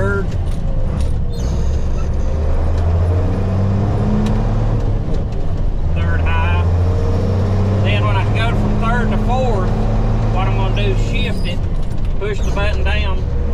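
Diesel engine of an International 4900 truck with a 5-speed transmission and 2-speed rear axle, a loud steady drone with pitch changes as it shifts into third gear, while someone talks over it throughout.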